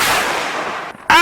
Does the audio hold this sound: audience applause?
no